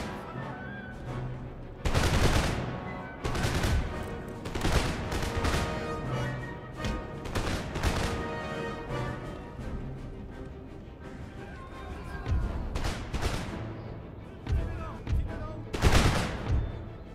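Musket and artillery volleys thunder across a battlefield in Empire: Total War, with sharp booming bursts near 2, 3, 5, 8, 13 and 16 seconds over a continuous rattle of gunfire and battle din.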